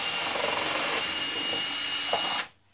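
A power drill bores through a balloon base plate at a pre-drilled centre mark, a steady close whine that holds for over two seconds and then cuts off abruptly.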